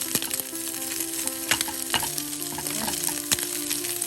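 Chicken liver browns in a frying pan for a Cebu-style adobo, sizzling steadily up close with sharp clicks of stirring; a voice briefly says one word.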